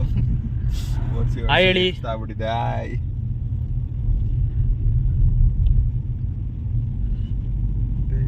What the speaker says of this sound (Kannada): ನಮ್ಮ ಹರ್ಷಿತ್ ಅವರು ತುಂಬ ಚೆನ್ನಾಗಿ ಗಾಡಿ ಓಡಿಸ್ತಾ ಇದ್ದಾರೆ